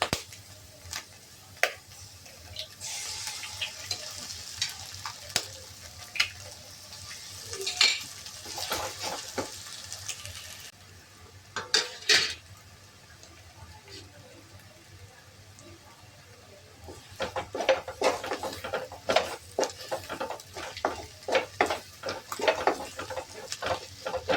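Egg is stirred into a pan for egg rice, giving soft sizzling with intermittent scraping and clinks of a utensil against the pan, plus quiet talk in between.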